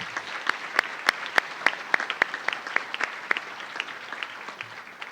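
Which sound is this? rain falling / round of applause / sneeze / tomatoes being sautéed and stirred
round of applause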